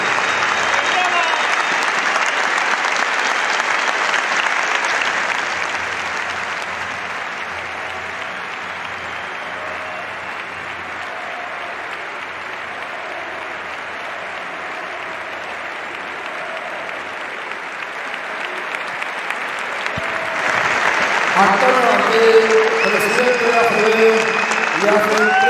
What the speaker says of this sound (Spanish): Un gran aplauso para Javier Imbroda, consejero de Educación y Deporte de la Junta de Andalucía.